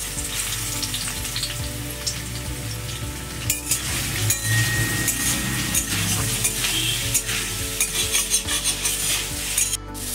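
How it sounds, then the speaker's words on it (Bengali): Soybean chunks fry in white oil in a wok, giving a continuous close sizzle with occasional clinks and scrapes of a utensil against the pan, with no talking. "এখন আমি একটা কড়াতে সাদা তেল একটু দিয়ে দিয়েছি। এখন সয়াবিনটা ভেজে নেব।"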